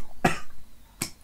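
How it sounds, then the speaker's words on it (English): A person with a mild chest infection gives two short coughs about three quarters of a second apart, the first a fuller burst and the second sharper and briefer, close to the microphone with no talking. "I still have the cough I had from last week,"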